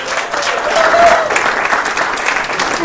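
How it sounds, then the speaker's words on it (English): An audience at a holiday networking event claps in a steady burst of applause that swells and holds, filling the room without any voices. "give yourselves a big round of applause just for being here tonight!"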